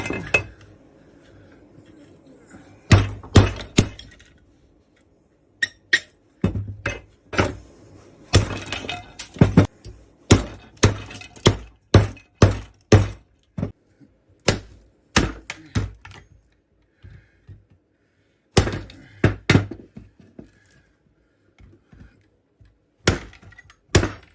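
A series of sharp, bright metallic strikes in uneven bursts, some rapid and some spaced apart, with short pauses between groups.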